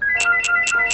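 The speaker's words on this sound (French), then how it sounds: "quand le téléphone fixe il a commencé à sonner" A landline telephone ringing loudly and alone, four evenly spaced electronic trills in quick regular rhythm.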